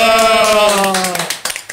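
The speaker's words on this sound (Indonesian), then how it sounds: "Tepuk tangan dulu." A few people at a youth podcast recording clap briefly, sharp scattered hand claps coming in after a sustained voice, close and short-lived.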